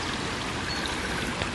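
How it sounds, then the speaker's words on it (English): Shallow water runs past about four feet away, a steady close rushing and trickling stream that fills the whole moment without pause. "have this water here that's running past is about 4 foot away"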